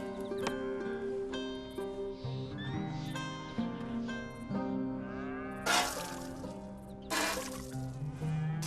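A cow in Red Dead Redemption 2 gives long, low moos during milking, set against a sustained musical background with a couple of brief splashy, bright bursts.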